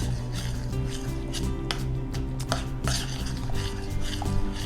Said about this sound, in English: We're going to add our gelatin now. Okay, we're going to give it a stir